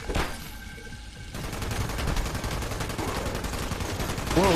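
Rapid gunfire from a heavy weapon in the video game Fallout 76, a dense crackling burst that runs steadily through most of the stretch after a quieter start, with no talking.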